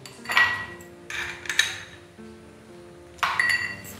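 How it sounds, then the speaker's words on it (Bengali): Ice cubes dropped into a glass for chilled blue butterfly pea flower tea, three bright clinking bursts with ringing glassy tails, close and distinct, quiet between drops. "আমি কতগুলো আইস এর মধ্যে দিয়ে দেব।"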